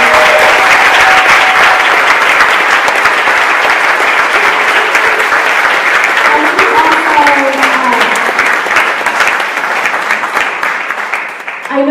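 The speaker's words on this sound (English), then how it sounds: "Can we just have one more round of applause?" A large audience at a Love & Responsibility talk in Philadelphia gives a sustained, loud round of applause, dense clapping holding steady for about twelve seconds, with faint voices surfacing briefly underneath.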